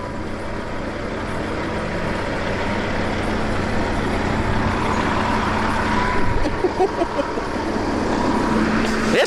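Heavy truck engine idling and rumbling close by in an open field during a logging operation with a 748L skidder, a steady low drone with faint air-brake hiss and no talk.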